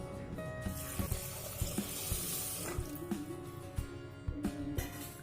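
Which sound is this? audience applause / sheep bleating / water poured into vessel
water poured into vessel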